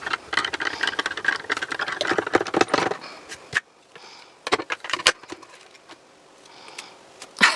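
A die cutting machine presses cardstock through its rollers in a run of sharp clicks, rattles and creaks, busy at first and then thinning to scattered knocks separated by quiet gaps.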